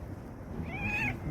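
A house cat gives a single soft, drawn-out meow, fairly close but quiet over a low background hum, with no talking.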